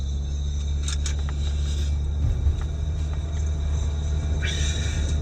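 A steady low rumble of thunder rolls through a storm under a broad wash of wind and rain noise, with a few faint higher crackles on top and no clear voice.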